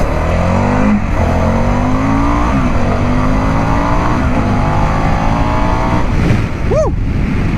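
BMW GS motorcycle engine pulling hard in sport mode, a loud, steady close-up roar with rising harmonic pitch sweeps as it accelerates through gears, a brief shout near the end.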